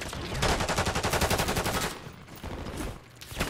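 Gunfire from enemies behind in a shooter video game, a fast rattling machine-gun burst followed by scattered further shots, loud and close.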